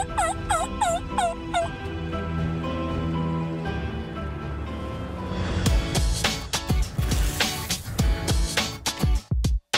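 A wild turkey in the hunting woods lets out a rapid series of loud, close gobbles, with further rustling and sharp knocks following.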